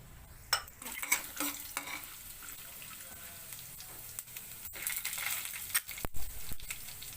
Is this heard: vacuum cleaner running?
no